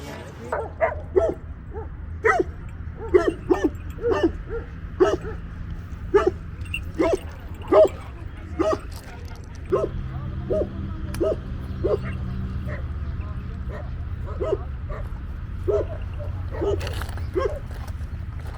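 Dogs at an Iranian animal market bark in short, sharp bursts repeated across the scene, some close and loud, while people talk in the background and the market hum carries on.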